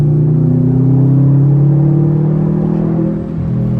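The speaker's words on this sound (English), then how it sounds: "This car sounds so much just growlier. It's like rumbling like crazy." A Subaru WRX STI with a BOSO exhaust accelerates hard in third gear, its deep, growling engine rumble loud and close, rising steadily in pitch before a brief dip as it shifts.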